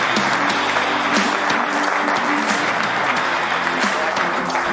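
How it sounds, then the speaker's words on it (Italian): Studio applause for the production crew on a sports broadcast, dense, steady clapping that stays loud and close throughout. "un applauso alla regia"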